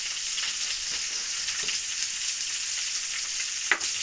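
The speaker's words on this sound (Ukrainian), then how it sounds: "хай обжарюється почеревинка" Pork belly fries in a pan with a steady, dense sizzle throughout, with one brief sharper crackle near the end.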